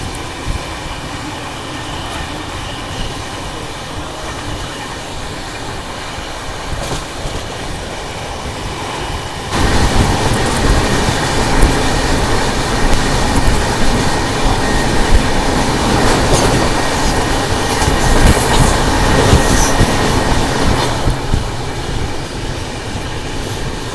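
AP Express passenger train running on rails, a steady loud rumble with rhythmic wheel clatter and occasional squeal, growing noticeably louder and harsher partway through as the ride continues.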